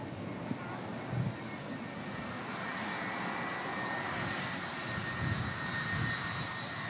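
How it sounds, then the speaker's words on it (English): A Turkish Airlines Airbus A330 jet arriving at Manchester Airport in strong crosswinds, its engines producing a steady, broad roar that holds throughout at moderate distance. "Oh, it's the Turkish Airlines A330. Yeah, another heavy arrival."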